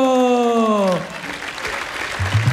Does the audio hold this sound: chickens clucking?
no